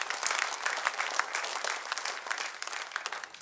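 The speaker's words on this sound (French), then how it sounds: "on peut applaudir ces choses-là" A church congregation at a Sunday service applauds, with dense steady clapping that holds throughout at a fairly loud level and no clear talk over it.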